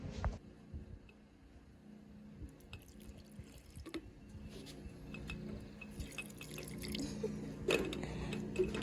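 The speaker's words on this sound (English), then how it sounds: "I'm just watering them enough to keep the soil damp" Water dripping and trickling into soil inside small glass greenhouse jars holding rose cuttings, a faint close pour with scattered drips and splashes, no talking.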